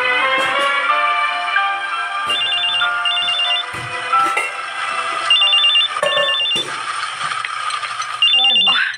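A telephone rings with an incoming call from a son, sounding as repeated short electronic trills that recur throughout. A tonal music bed runs underneath, with occasional clicks and knocks.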